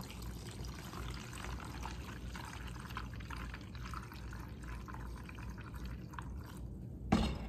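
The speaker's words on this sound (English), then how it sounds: "We'll start adding water." Warm water is poured steadily into a wasp bait trap, a continuous close splashing and trickling stream that ends with a brief knock.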